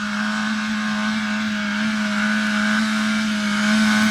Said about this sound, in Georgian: რას ვერ ამოვა, ჩეროკი ამოვა კი არა, ამოიფრინა.